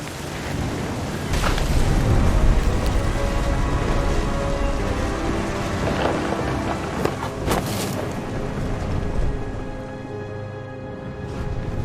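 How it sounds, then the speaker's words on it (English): A thunderstorm in the video game What Remains of Edith Finch: heavy rain roars steadily while deep rumbles and a few sharp cracks of thunder break through, loud and close, with no talk. "The thunder sounded much too close and full of angry power."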